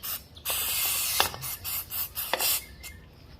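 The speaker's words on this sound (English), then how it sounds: "Use the parts cleaner. Clean that up because we got all kinds of dirt and nastiness." Aerosol parts cleaner sprayed onto a Yamaha WR450F dirt bike in short hissing bursts, several separate sprays with brief gaps, close and fairly loud.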